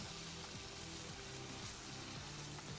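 Dumba karahi mutton fries in a pan with red chili, a dense, steady sizzle close up, with faint stirring scrapes now and then and no talking over it.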